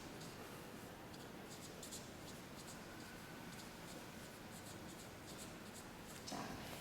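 Pen nib scratching steadily across paper while drawing lace flower motifs for a skirt illustration, a faint continuous scribble with small rhythmic strokes, close and quiet with no talking.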